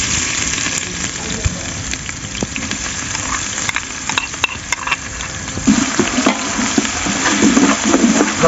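Ginger and garlic paste sizzles in hot oil with browned onions for Bannu beef pulao, a steady loud frying crackle that swells into bubbling stirring toward the end.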